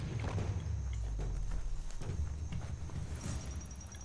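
Horse mount hooves clop at a walking pace in the game Biomutant, a steady close rhythm of hoof strikes over a low rumbling bed, alone without talk.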